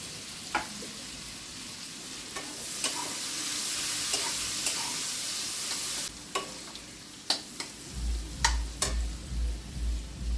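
Carrots tossed into hot oil in a wok (kadai) for fried rice, with prawns already fried out, give a steady close sizzle broken by sharp spatula clinks and scrapes, then a low rumbling near the end.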